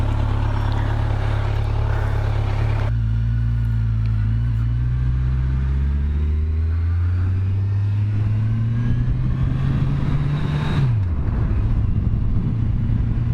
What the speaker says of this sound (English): This is the 2018 Ninja 1000.